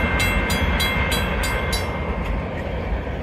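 Union Pacific 8444 hauls an outbound manifest freight past a road crossing, its loud, steady rumble and roar holding close by, with a crossing bell ringing in a quick rhythm above it.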